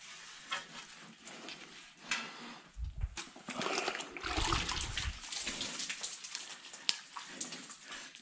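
Water running down into a small drain grate, a steady splashing flow that rises and falls, with a few louder gushes in the middle.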